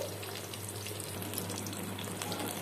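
Eggplant slices rubbed with salt and turmeric frying in hot oil, a steady soft sizzle and crackle with no talking.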